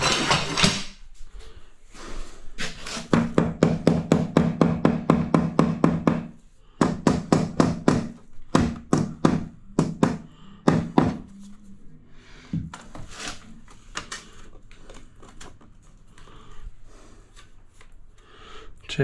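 A rubber hammer taps tile into place in a wall niche, with fast runs of sharp, evenly spaced knocks, then slower irregular taps and pauses, close and clear.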